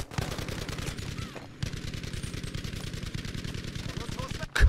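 An M1919A6 Browning machine gun fires in Battlefield V, a loud, steady stream of rapid rounds in long sustained bursts with one brief pause, ending in a heavy thump.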